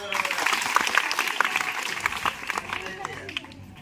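Schoolchildren clapping together in a classroom during a spoken English programme, a burst of lively, uneven applause that is loud at first and thins out toward the end, with some chatter mixed in.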